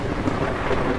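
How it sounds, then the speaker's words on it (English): Thunder during a storm: a low, rolling rumble that holds steady for about a second, heard alone without speech. "No thunderstorms, please."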